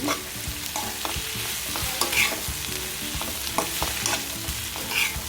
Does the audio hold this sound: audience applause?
no